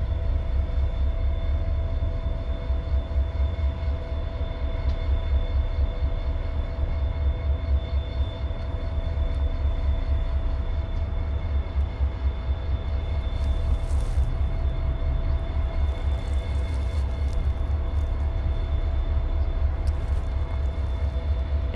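Norfolk Southern NS 378 freight rolls through the rail yard in Columbus, Georgia, a steady low rumble of wheels and engine drone with rhythmic clunking and a faint high squeal, close and continuous.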